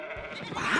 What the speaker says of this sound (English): Do you hear that? Whoa! There are sheep everywhere!